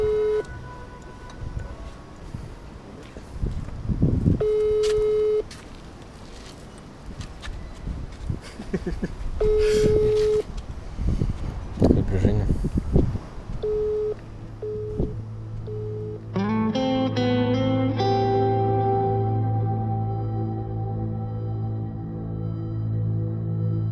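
Ringback tone of an outgoing phone call, sounding as repeated short steady beeps over a busy background, followed by a more sustained tonal passage.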